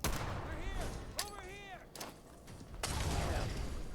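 Gunfire from a Fallout 4 battle: several sharp shots and bursts cut through busy game noise, with a robotic voice-like tone sweeping between them and a loud blast near the end.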